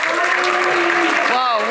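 Crowd applause at a rugby event honoring former Ireland player Rory Best, loud and continuous with a voice speaking over it.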